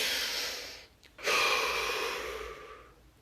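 A slow, deep breath taken close up: a long airy inhale fading away, a brief pause, then a stronger rushing exhale that tapers off gradually, quiet and with no talking.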